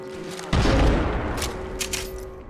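A frag grenade blast in a video game: a single loud boom that hits sharply then rolls off into a long rumbling tail with a few scattered crackles.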